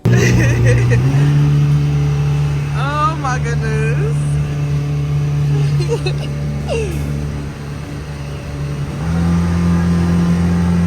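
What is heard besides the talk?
jet car engine revving during an excursion in St. Croix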